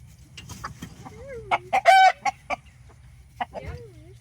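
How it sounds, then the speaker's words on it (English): A rooster makes a cluster of sharp clucks and a short strained crow-like call at close range, with soft human voices murmuring quietly between the calls. "Yeah, it is a rooster."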